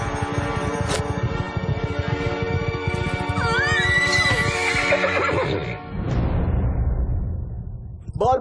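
During a horse race, a horse gives a loud, drawn-out neigh over a thick mix of galloping hooves, music and crowd noise, with a short burst near the end.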